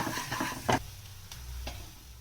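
Coarsely ground fennel, coriander seeds, green chili and ginger paste sauté in a pan, a soft sizzle with a few scraping stirs and clicks, close and quiet.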